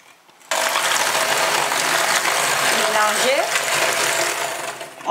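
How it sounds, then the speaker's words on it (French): An electric hand mixer whirs steadily and loudly for several seconds while whipping sugar and whole eggs for a sponge cake batter, with rattling beaters in the bowl and a short quiet start. "nous aurons aussi besoin de notre batteuse électrique"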